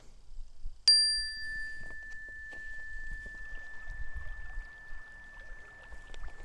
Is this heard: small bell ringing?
yes